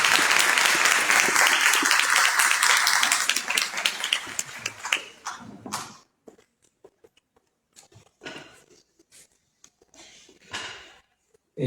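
Loud, dense applause from a conference audience at a COP 30 climate event, filling the first few seconds before thinning into scattered claps and fading to near silence.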